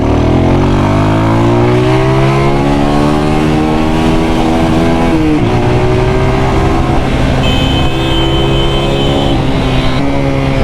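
A brand new 250cc Rebel T Special Edition motorcycle being ridden, its engine droning loud and close throughout, pitch rising and falling through gear changes with steady wind rush.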